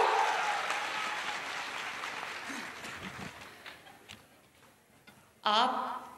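Audience applause at a political event for students where a laptop scheme is announced, a broad crowd clatter that fades through the middle and swells again in a louder final burst.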